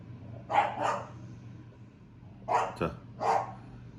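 A dog barks in short bursts, a pair of barks followed after a pause by a few more, fairly close over a low steady hum.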